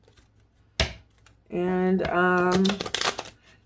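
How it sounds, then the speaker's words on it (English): A tarot card deck being shuffled: a sharp snap, then a steady riffling flutter lasting about a second, with a voice talking over part of it. "Spirit is telling me to shuffle this deck a lot."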